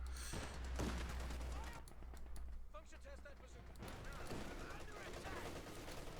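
Bursts of MG34 machine-gun fire in Company of Heroes 2 chatter amid battlefield explosions, rising and falling across the span while a commentator talks over it.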